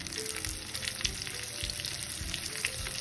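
Tomatoes hit a hot, sizzling pan while chicken curry cooks, giving a steady close frying crackle with soft stirring scrapes throughout.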